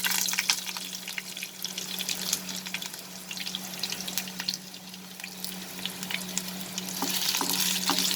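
Raw mango pieces sauté in hot oil with black mustard seeds and dried red chilies, a continuous close sizzle with scattered crackles and pops, steady and moderately loud.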